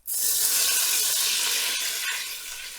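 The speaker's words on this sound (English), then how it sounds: "We let some of the alcohol evaporate, and this is picking up all that glorious sear that we left at the bottom of the pan." White wine poured into a hot pan after searing oxtail, giving a loud steady hiss and sizzle that fades slowly, with faint scraping of a utensil against the pan bottom and no talking.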